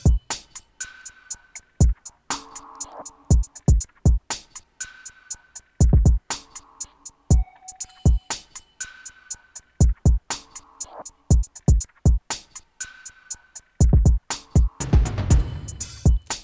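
An R&B drum pattern programmed in FL Studio for a beat: punchy kicks, crisp snares and ticking hi-hats in a steady, laid-back groove that repeats throughout, with a busier low-end burst near the end.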